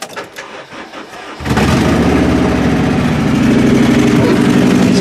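A demolition-derby Honda CR-V engine not running on all four cylinders cranks over, then catches and holds a loud, rough, steady drone at close range after a short quieter stretch.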